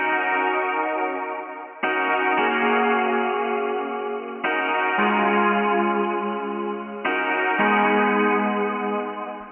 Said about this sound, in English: For the pads I've also used Omnisphere and it sounds like this.